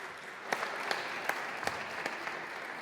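Congregation in a church clapping, a soft, fairly distant patter of applause with a few sharper individual claps.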